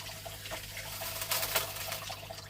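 Water rushing steadily through a Flower Gold Wizard micro sluice, a close, continuous wash and trickle with light splashes throughout.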